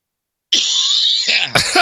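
Someone coughs and sputters harshly up close, a raspy choking burst followed by a second rough cough.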